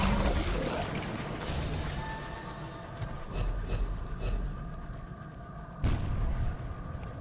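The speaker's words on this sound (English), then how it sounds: "I've hit it a bunch of times with the big cannon. The rock gun." Big rock-firing cannon in the video game Sunless Skies, heavy booming shots over a dense rumbling game backdrop, with several sharp blasts standing out, the loudest near the end.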